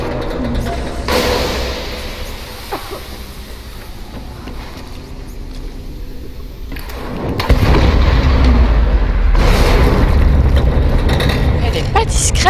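A blast goes off in the Tomb Raider video game, a sudden heavy boom that gives way to a loud, sustained low rumble, with a French-speaking player talking through the game sounds.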